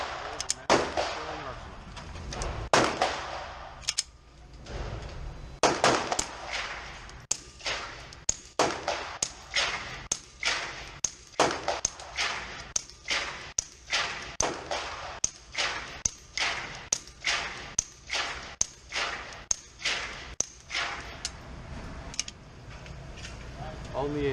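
SilencerCo Maxim9 suppressed 9mm pistol fired at a target 7 yards away: a long string of sharp, suppressed gunshots in a steady, fairly quick rhythm, each a crisp crack with a short tail, loud and close.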